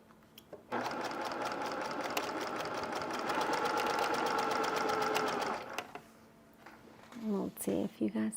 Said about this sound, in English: now I'm going to sew 1/4 of an inch all the way down